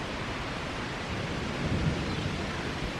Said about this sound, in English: I don't know whether it's picking up the thunder or anything, but we got a good storm coming in.